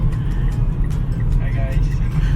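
A car cruises along, heard from inside as a low steady engine and road rumble, with a person talking over it.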